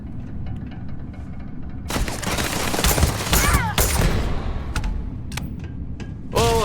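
Rifle gunfire in a video game, bursts of sharp shots and booming impacts that cluster loudly in the middle and end of the stretch, heard close with no talking.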